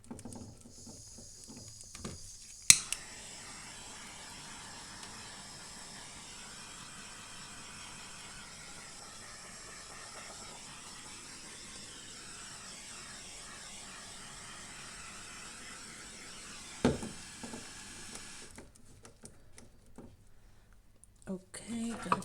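A handheld torch blows a steady, even hiss across a fresh resin bottle-bottom pour on a 40 cm square panel, running for about sixteen seconds after a sharp click, then cutting off into near silence.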